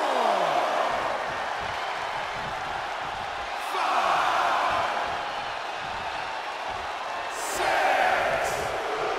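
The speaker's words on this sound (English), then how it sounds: "These fans are sending the decibel level off the skid" Arena crowd in WWE 2K24 roaring at a wrestling match, a steady loud wash of cheering that swells twice, with commentary talk faint beneath.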